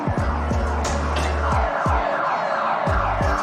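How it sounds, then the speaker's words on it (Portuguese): Street din in Caracas, Venezuela, with sirens blended into dense traffic noise and low rumbling vehicles, steady and loud throughout, with sharp repeated thumps cutting through. "ouçam as sirenes"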